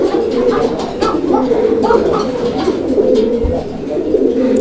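Several pigeons of a colouring Rasgolla breed coo steadily and loudly close by, their rolling calls overlapping continuously in a loft.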